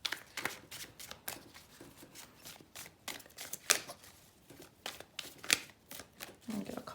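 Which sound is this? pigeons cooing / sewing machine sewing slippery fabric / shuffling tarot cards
shuffling tarot cards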